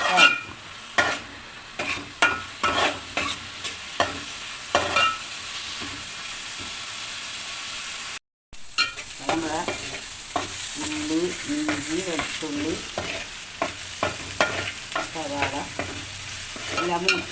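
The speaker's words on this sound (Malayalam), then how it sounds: "ഈ സവാള നമുക്കൊന്ന് നല്ലോണം വഴറ്റാം" Onions being sautéed in a pan for a chicken roast curry, first with sharp repeated spoon knocks and scrapes, then a broad continuous sizzle with stirring after a short break.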